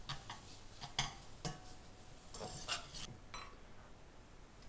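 Shallots and oil stirred in a pan give a few soft, scattered clinks and scrapes of a utensil, faint and unhurried, with no talking.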